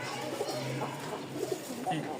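A pigeon coos softly in a few low, rounded calls, close by and fairly quiet, while a person talks over it.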